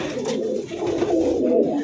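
Tournament racing pigeons at a home loft coo steadily in a low, rolling murmur, close by and continuous with no talk over it.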